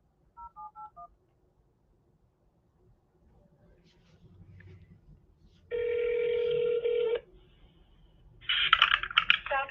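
Telephone keypad tones dial an office number, followed by a long steady ringback tone and then a brief burst of noisy line sound, heard close and clear over faint background.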